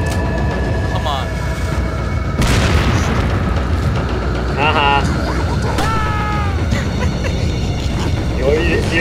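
Deep booming explosion in Resident Evil 4, a sudden loud burst amid game effects and sharp chirps, with a player talking over the gameplay.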